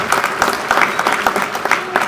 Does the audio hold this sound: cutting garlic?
no